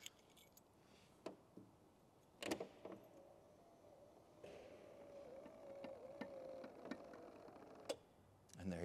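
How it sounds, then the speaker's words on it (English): Rear hatch on a well-kept 1987 Pontiac Firebird GTA running, a steady motor whine lasting several seconds with clicks and clunks at start and end, recorded close up with no talk. "So the rear hatch still works."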